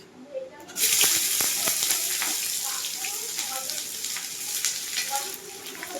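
Chopped onions hit hot oil in a pan and burst into a loud, steady sizzle, with soft scraping as they are stirred, continuing evenly after the first splash.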